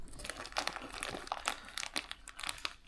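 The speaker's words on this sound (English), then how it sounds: "basically this one you just have to fold them over" Paper being folded and creased by hand while making a Robin AWACS paper aircraft model, a close, quick run of crinkling and rustling with no talk.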